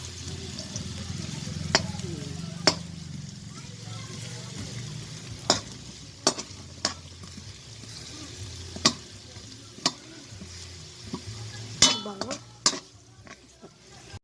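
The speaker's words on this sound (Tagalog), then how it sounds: "Igisa po natin ang sibuyas." Onions sautéing in a pan for a pechay and egg dish, a low steady sizzle punctuated by sharp metallic clinks of a utensil against the pan at irregular intervals, close by with no clear talk.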